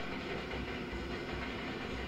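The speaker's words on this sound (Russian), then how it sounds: "Стоп, опять поезд?" A train rolls past in the Suicide Squad video game as a dense, steady rumble with a faint rhythmic clatter of wheels, loud and unbroken, with no voices.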